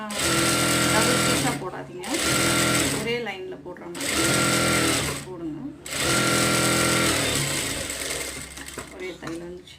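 Sewing machine stitching a cowl sleeve for an umbrella frock, four loud whirring bursts of rapid needle chatter each lasting about a second and a half, separated by short pauses, close up while someone talks over it.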